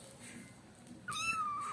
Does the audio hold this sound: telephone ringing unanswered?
no